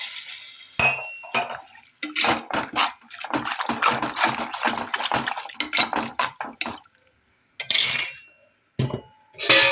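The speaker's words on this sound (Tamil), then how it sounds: "இப்போ தேவையான அளவு தண்ணி சேர்த்துக்கலாம்." Water splashes and pours into a cooking pot of lentils and radish amid clinks of metal and utensils, a busy run of close kitchen sounds with a few brief pauses.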